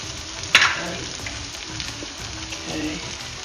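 Minced garlic, ginger and tomato paste sizzle in a hot pan for an Indian butter lamb curry, with a sharp burst of frying as they hit the oil, then a steady low crackle.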